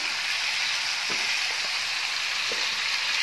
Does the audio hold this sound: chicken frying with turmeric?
yes